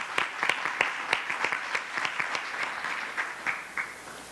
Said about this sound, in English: Let's give Principal French another round of applause.